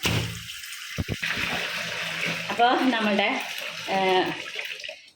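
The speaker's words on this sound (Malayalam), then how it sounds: "ഇതുപോലെ നല്ലപോലെ കുറേ പ്രാവശ്യം ഒന്ന് ഈ വെള്ളത്തിൽ അലമ്പി കല്ലി കൊടുത്തിട്ട് നമുക്ക് കഴുകാം." An old bag being rinsed and sloshed around in water by hand, with splashing, dripping and swishing in bursts while someone talks over it.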